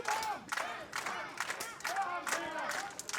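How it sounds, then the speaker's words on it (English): A crowd chants rhythmically for Denmark at a duelling fight event during the 2017 IMCF World Championship in Spottrup, Denmark; loud massed voices rise and fall in repeated waves. "You can hear them chanting for Denmark."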